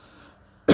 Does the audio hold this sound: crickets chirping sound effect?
no